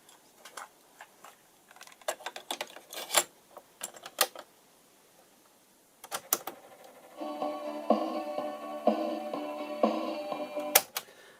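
Keys on a TEAC PC 16 portable stereo cassette recorder clack against the internal play mechanism in a scattered run of sharp, close mechanical clicks, followed by a steady whirring, buzzing drone as the deck begins running, with a few more clicks on top.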